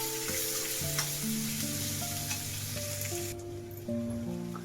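Onion fries in a pan with a constant, dense sizzle and hiss. Steady tonal sounds continue underneath it, and no voices are heard.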